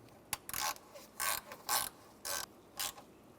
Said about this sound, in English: Now we'll put this screw in, get that lined up, and tighten it down.